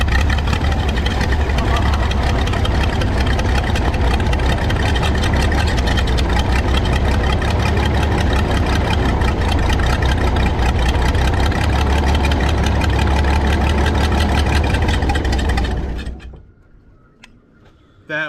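A Michigan model 35A machine's engine runs loud and steady at a rough idle for about fifteen seconds before abruptly cutting out to near silence, with voices faintly under the engine.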